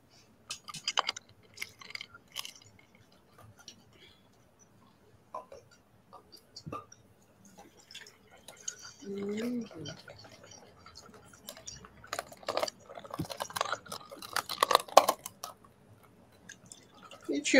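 A dog gnaws on a purple stick-shaped Kong rubber toy indoors, producing scattered close clicks, squelches and crunchy bursts in irregular clusters with quiet gaps, growing busier toward the end.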